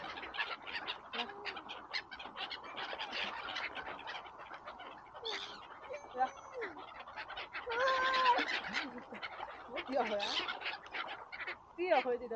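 Ducks or geese honking and calling nearby, a busy run of overlapping nasal calls and clucks that rises into louder bursts toward the end.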